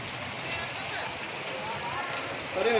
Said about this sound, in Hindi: ये देखें बारिश रुकने का नाम नहीं ले रही है।